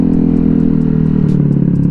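Kawasaki Ninja 1000 motorcycle fitted with an Exos X6 exhaust pipe, idling close up with a loud, steady low rumble and a faint rhythmic ticking clatter throughout.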